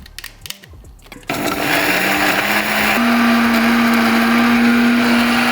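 An electric spice grinder grinds whole spices and dried rose petals for garam masala, kicking on to a loud, steady high whirring hum that fills the rest of the clip after a few quiet taps.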